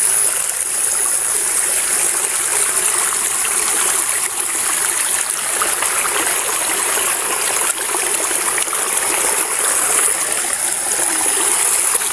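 Water pouring steadily from the outlet of a homemade, electricity-free ram pump, a loud continuous rushing and splashing flow close to the microphone with no talk.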